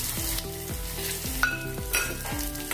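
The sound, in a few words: chana dal and urad dal frying with onion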